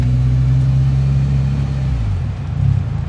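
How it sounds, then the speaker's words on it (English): Car engine at a struggling idle kept alive by feathered throttle, a steady low droning hum with strong harmonics that dips and wavers near the end before a small rise, close and loud with no talking. "So you just feather in the gas to keep it alive?"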